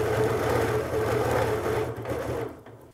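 A sewing machine stitches during air quilting, a close, rapid, even mechanical whir that runs steadily and then slows and stops near the end, with no voices.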